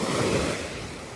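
Ocean surf washes onto a beach in a continuous broadband roar, loud and close, with no voices over it.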